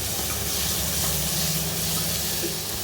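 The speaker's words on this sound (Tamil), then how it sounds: "கடுகு, பச்சை மிளகாய், தக்காளி போட்டு வதக்கிறேன்." Mustard seeds, green chili, crushed ginger and tomato sauté in a hot pan for a ginger lemon rasam, giving a loud, continuous sizzle and hiss close by, with no talking.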